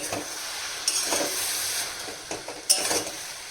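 Fenugreek and radhuni seeds crackle and hiss in hot oil while a utensil stirs the pan, a dense bright sizzle with a few sharp clinks, close by and without any voices.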